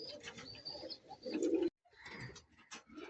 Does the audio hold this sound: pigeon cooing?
yes